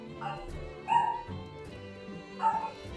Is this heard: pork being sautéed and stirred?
no